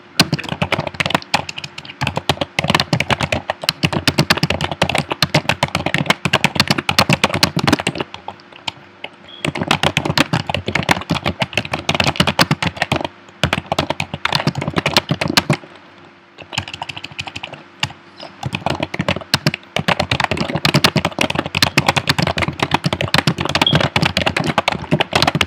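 Loud, rapid, continuous clatter of typing on a computer keyboard while writing a web page description. The keystrokes come in long dense bursts with a few short pauses and no talk.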